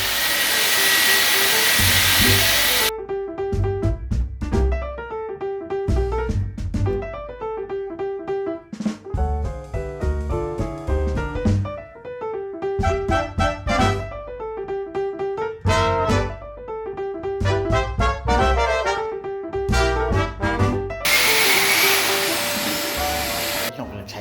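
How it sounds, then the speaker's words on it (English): A floor sander roars loudly over kitchen floor tiles at the start and again near the end, with a person talking through the long middle stretch while the machine drops back. "I'm going to get the sander on here and yeah, try and make some progress with this floor today"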